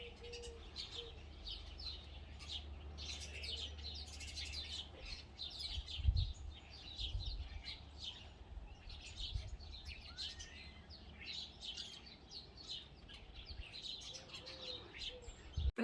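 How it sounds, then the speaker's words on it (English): Many birds chirp and tweet continuously in the distance, a busy chorus of small calls over faint low background noise. "I'll put a clip of that so you can hear how loud the birds are"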